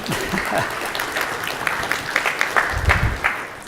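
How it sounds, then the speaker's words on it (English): A keynote audience at the Texas GIS Forum gives a brief, moderate round of scattered applause, with individual claps standing out as it fades. "I haven't said anything worthy of applause yet."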